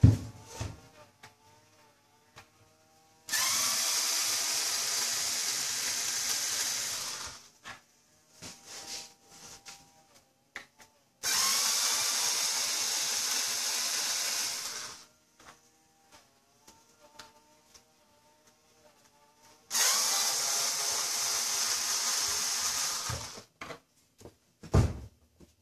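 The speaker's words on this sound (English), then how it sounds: "Let's see if I can find the proper bit for the screwdriver." A power screwdriver whines in three sustained runs of several seconds each, backing screws out of a Knabe grand piano during restoration, with quiet handling clicks and pauses in between.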